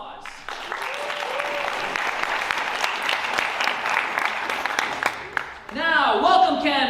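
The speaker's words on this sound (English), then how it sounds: "Please give a round of applause." A student government forum audience applauds for candidates, a steady wash of clapping lasting several seconds before tapering off, then a voice begins speaking over a microphone.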